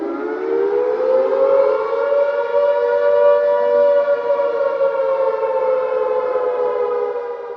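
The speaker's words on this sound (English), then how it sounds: "in Grand Canyon Village, air raid type sirens are used to warn people of encroaching wildfires" An air-raid-type civil defense wildfire warning siren in Grand Canyon Village wails in one long sustained tone, loud and steady, rising slightly then holding before trailing off.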